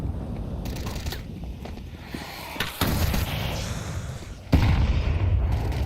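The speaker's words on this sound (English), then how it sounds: "Early nades out here." Grenade blasts in a competitive Counter-Strike match: several booming explosions with sharp cracks and a heavy thump near the end, over a rumbling background of gameplay noise.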